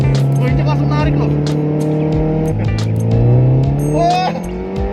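A Mitsubishi Lancer CB5 GTI accelerates hard, its engine note repeatedly climbing and dropping through gear shifts, loud and close from inside the car, with someone talking excitedly over it.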